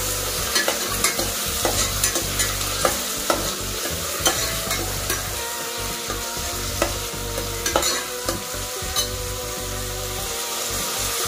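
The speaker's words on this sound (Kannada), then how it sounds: "ಅವರೆಕಾಳು ಹಾಕಿ ಚೆನ್ನಾಗಿ ಮಿಕ್ಸ್ ಮಾಡ್ಕೊತಾ ಇದ್ದೀನಿ." Field beans, onion and green chilli stirred in a pan, loud close scraping and rhythmic clacks of a spoon against the pan over a soft frying sizzle, repeating steadily throughout.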